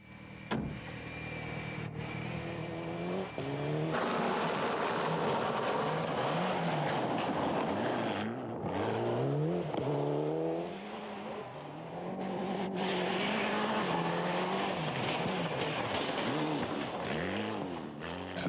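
A rally car on a road during the 1999 Rallye Alsace-Vosges, its engine loud and near, revving and dropping through gear changes in repeated rising sweeps, with no talk over it.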